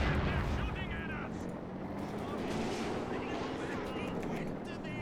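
A Jackson tank destroyer fires in Company of Heroes 2 during a world championship match, amid a dense, continuous battlefield din of rumbling artillery and gunfire, with a commentator talking over the noise.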